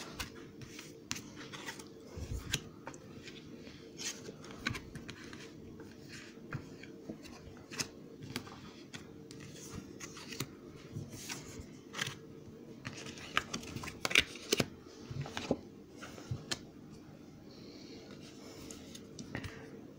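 Tarot cards are shuffled and handled by hand in a quiet room, producing soft riffling and scattered light taps and clicks spread across the stretch, close and faint, with no voice.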